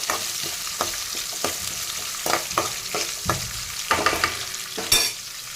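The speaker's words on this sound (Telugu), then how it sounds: "ఆనియన్స్ అన్ని చక్కగా వేగిపోవాలి" Chopped onions and green chillies frying in hot oil, a bright crackling sizzle broken by repeated sharp stirring scrapes, loud and close with no talk.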